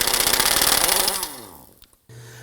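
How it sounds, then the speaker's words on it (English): A power tool with a 21mm socket spins off the lower ball joint nut on a 2003-2014 Volvo XC90, a loud, close, harsh whir lasting about a second before it winds down and stops. "Using our 21mm socket, go ahead and loosen the ball joint nut."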